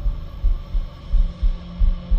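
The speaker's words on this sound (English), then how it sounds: "The heartbeat?" A heavy, slow heartbeat thuds in a horror video game set in a basement, the regular double-pulse beats looping over a low droning hum with no talking.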